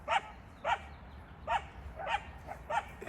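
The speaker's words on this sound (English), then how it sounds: "There's the two coyotes" Two coyotes bark outdoors in a sharp, evenly spaced series, six yips in about three seconds, heard at a moderate distance over a faint background hiss.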